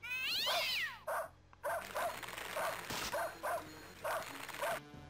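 A cartoon cat meows and yowls repeatedly as it is tossed in the video game Blazing Dragons, a loud rising wail followed by a string of short, punchy cries over game music.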